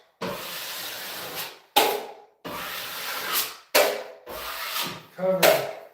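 Sandpaper rubbed by hand over dried drywall joint compound in five separate strokes, each a close, dry scratchy rasp with short pauses between, the last one choppier.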